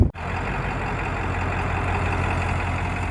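A pickup truck engine idles steadily up close, with a sharp transient at the start and a repeating reversing beep under the continuous rumble; no one speaks.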